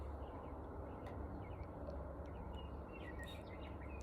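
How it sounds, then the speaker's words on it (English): Faint, scattered bird calls chirp in the distance over a steady low rumble of outdoor background noise, with short whistled notes appearing here and there and growing slightly busier near the end. "I don't know if you can hear the birds,"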